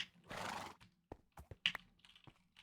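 A horse in a video game whinnies in a bright, sustained burst, followed by a few scattered hoof clops and small sounds, fairly quiet overall.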